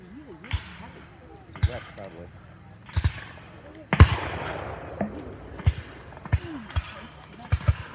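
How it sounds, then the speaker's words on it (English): Sharp, distant popping shots ring out irregularly, each with a brief echoing tail, over a low outdoor background with faint voices, at a Civil War reenactment muster staging the Battle of Gettysburg Wheat Field. "Oh, I hear gunfire over there."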